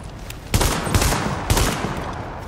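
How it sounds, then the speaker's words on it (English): Shotgun blasts from an SASG in the video game The Division, with two heavy, booming shots about a second apart, each trailing off into a dense rumbling decay, loud and close with no talking. "Man, that's a sick shotgun."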